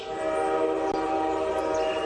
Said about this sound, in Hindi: भारतीय रेल